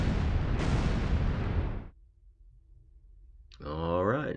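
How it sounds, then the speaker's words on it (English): A loud, sustained explosion picked up on sonar in the submarine game Dangerous Waters roars for about two seconds, then cuts to near silence before a voice speaks. "sonar soup, loud explosion, bearing"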